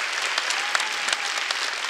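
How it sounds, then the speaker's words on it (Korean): A congregation claps during a Wednesday church service, a brisk, even round of many hands with a few sharper individual claps standing out, steady and fairly loud for two seconds with no voices. "박수 한번 쳐줘요."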